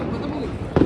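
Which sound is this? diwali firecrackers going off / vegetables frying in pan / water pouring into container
diwali firecrackers going off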